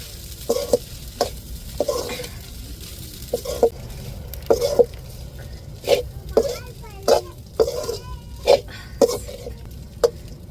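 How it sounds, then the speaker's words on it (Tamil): Crushed chicken fries in a coconut tempering, sizzling steadily in the pan while a spoon stirs and scrapes in quick, irregular clacks close by. "எடுத்து நல்லா அந்த தேங்காவோட தாளிப்புலையே போட்டு"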